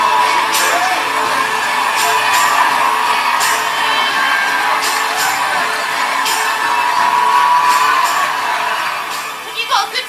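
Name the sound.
crowd cheering at a summer sport celebration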